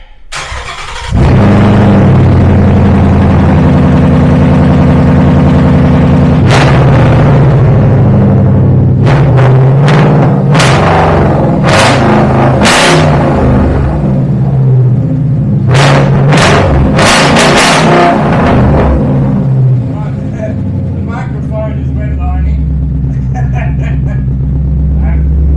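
A Ford Mustang GT with a Roush straight-pipe exhaust and resonator delete fires up loud and close, settles into a deep rumble, then blasts out a string of sharp throttle revs before easing back to a burbling idle.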